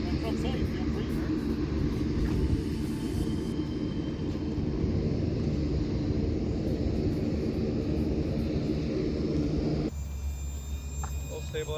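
A SubSonex personal jet's engine at low idle, giving a steady, loud broadband roar and whine that holds throughout, then shifts tone near the end.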